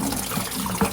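Coolant drips and trickles from loosened hoses on a Porsche Boxster 987.1 during a coolant flush, a close, steady wet patter with one brief louder splash near the end.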